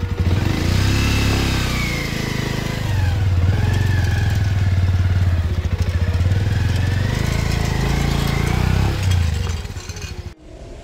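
A motorcycle engine running loud and close, rumbling and revving for several seconds before cutting off abruptly.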